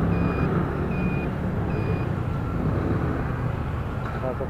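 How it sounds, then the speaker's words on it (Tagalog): A truck backs up in busy city street traffic, its reversing alarm beeping three times in an even rhythm over a dense, steady roar of vehicles and engines, with no talking. "Traffic din pala."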